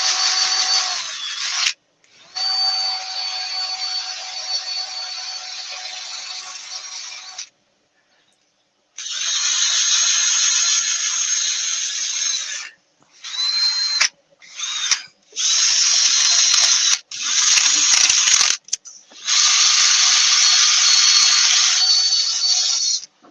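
A cordless drill runs in repeated bursts while working into a piece of wood for a simple bowl, its gearbox whirring and ratcheting with brief pauses between runs, loud and close.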